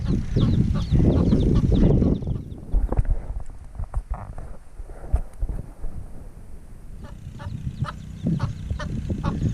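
Several backyard chickens eating worm compost cluck and make honking, goose-like calls at close range, with scratching and pecking in between, and no talk over them.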